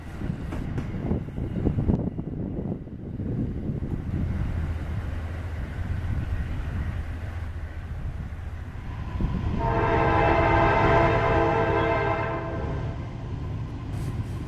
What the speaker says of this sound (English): We got an interesting horn show from the engineer as well.